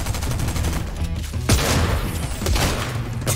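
Rapid bursts of gunfire in an Epic video game, sharp shots and thuds stacking into a dense, loud volley with a few heavier cracks standing out, no voices.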